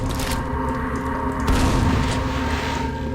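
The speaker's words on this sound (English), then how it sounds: "And then resume shooting the Ogre" Gunfire rings out in Quake while an Ogre is shot at in a castle level, a dense, loud stretch of booming shots with a heavier blast midway.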